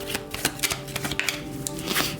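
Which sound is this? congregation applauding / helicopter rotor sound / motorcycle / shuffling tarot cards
shuffling tarot cards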